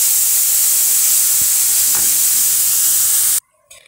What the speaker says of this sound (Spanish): ya comenzamos a hacer la fritura del tomate